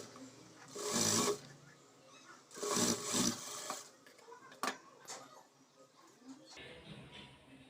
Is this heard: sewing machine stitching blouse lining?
yes